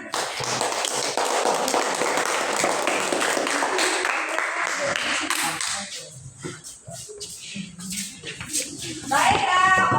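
Classroom applause for group 2's presentation in a school lesson: a dense burst of many hands clapping fills the first half, then fades into scattered claps and room noise with some children's voices.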